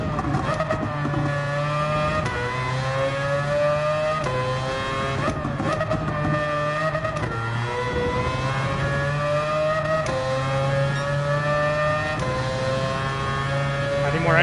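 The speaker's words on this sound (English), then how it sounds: "I need more engine sound on my ears." A race car engine in a racing video game set at the Nurburgring 24 hours climbs and drops through gear shifts, with tire squeal and skids under it, loud and continuous, and some speech mixed in.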